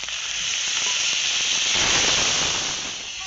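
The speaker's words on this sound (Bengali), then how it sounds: "আদা ভাজা হয়ে গেলে দিয়ে দিচ্ছি অল্প একটু জল।" Water splashed into hot oil with fried ginger, bursting into a loud, steady steam hiss and sizzle that swells near the middle and stays close for a few seconds with no voices.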